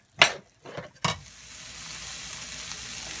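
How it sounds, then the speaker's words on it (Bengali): A few clattering spoon scrapes against the pan, then a continuous bright sizzle as tomato puree fries with onion-garlic paste for a prawn malai curry, close and steady with no talking. "ভালো করে নাড়তে হবে, নেড়ে নেড়ে"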